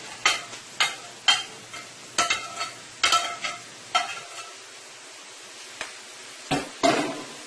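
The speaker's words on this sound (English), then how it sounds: "you're going to go ahead and you're going to add your scallion and your tomatoes" Scallion and tomatoes stirred in a sizzling pan for a Guyanese fried provisions and eggs dish: about a dozen sharp stirring scrapes in an uneven rhythm, each over a soft frying sizzle.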